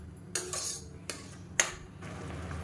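A spoon knocks against a pot three times while lentil payasam made with toor dal is stirred on a gas stove, leaving sharp, isolated metallic clinks over a low background hum.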